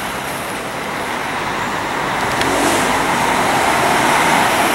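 An Irabus coach pulls into Tietê bus terminal in São Paulo, a steady engine drone and roadway rush that swells slightly louder as it nears, set amid busy station traffic noise.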